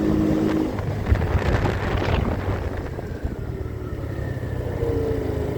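A Kuba SJ 50 Pro motorcycle being ridden on a cold day, its steady engine drone mixed with heavy wind buffeting against the microphone, continuous and fairly loud throughout.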